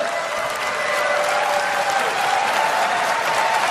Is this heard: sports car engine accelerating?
no